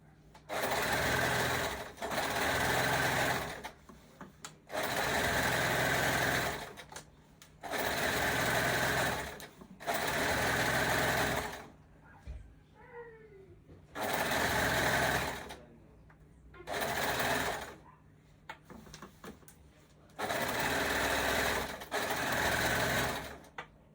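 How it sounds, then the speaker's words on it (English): A serger overlocker finishes skirt seams in repeated close bursts of fast, steady whirring, about eight runs separated by short pauses, with the motor starting and stopping each time. "and we're gonna serge"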